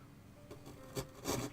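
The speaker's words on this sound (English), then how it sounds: "Gouge out allows me a slightly more controlled cut across grain like this" Wood gouge cutting across the grain while carving an owl figure, giving two or three short rasping scrapes close by, the last one the loudest, with no talk.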